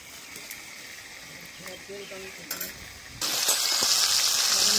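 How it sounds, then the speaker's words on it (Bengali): Fish frying in a pan with a dense, loud hiss of oil that rises sharply partway through after a few clinks of a utensil, close by, with a voice in the background early on. "মা মাছটা ভেজে নিচ্ছে"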